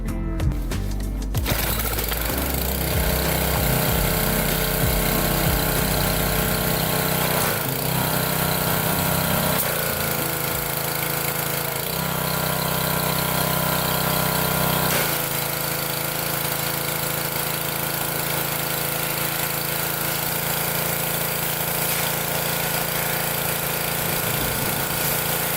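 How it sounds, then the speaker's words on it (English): A gas pressure washer sprays down the fuel tank of a Honda CR125 dirt bike, its engine droning loud and steady up close for the whole stretch with a rough, buzzing mechanical tone. "All right, let's pressure wash the gas tank here."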